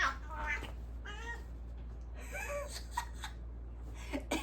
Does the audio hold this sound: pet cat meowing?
yes